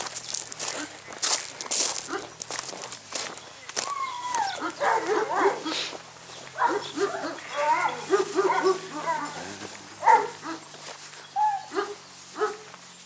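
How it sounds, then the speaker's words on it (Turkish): Barking and whimpering from a large, aggressive Kangal dog, a Turkish livestock guardian breed, with scattered yelps and barks over footsteps and brief speech in the background. "Bayağı bir agresif, sert bir köpek."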